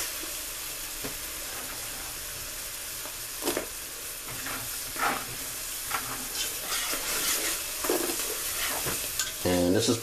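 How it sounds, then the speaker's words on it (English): Chopped vegetables for a seafood gumbo with shrimp, crab meat and okra sauté in a pot over low heat, giving a steady sizzling hiss broken by scattered stirring scrapes and clinks, with a louder clatter near the end. "so I'm going to let my vegetables saute about 3 minutes"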